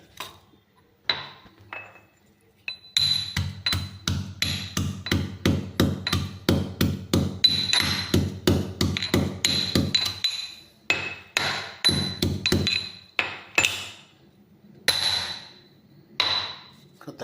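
Garlic pounded in a mortar, a long run of rapid, regular sharp thuds with a metallic clink, close and loud, broken by short pauses, with no talk.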